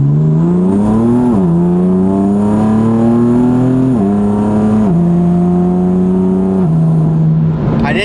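A BMW M4 accelerating hard, its loud engine note climbing steadily and dropping briefly at each gear change, near and continuous until it fades out at the end.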